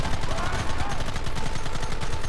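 Rapid gunfire in Red Dead Redemption, dense overlapping shots from several guns in a fast steady barrage, loud and continuous with shouting voices mixed in.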